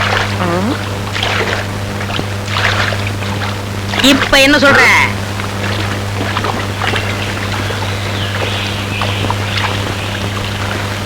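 A boat motor drones steadily on the water with a low hum, while people talk over it throughout.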